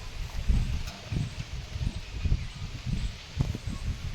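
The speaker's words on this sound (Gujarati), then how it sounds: "ફૂલે ફૂલ પવન હે" Wind gusts rushing through leaves in uneven waves, with low rumbling buffeting and a steady rustle throughout.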